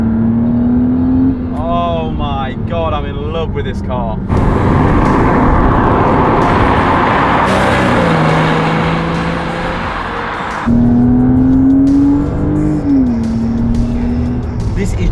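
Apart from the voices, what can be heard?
Porsche Boxster S Spyder Tiptronic accelerating, engine revving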